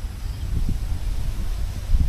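Gusting wind buffets the microphone in low rumbling bursts, with no voices.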